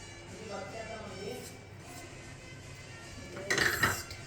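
Onion salad being mixed with turmeric, chili, coriander powder, salt and garam masala in a bowl: soft scraping and stirring under a talking voice, ending in a brief, brighter clink of utensil against the bowl.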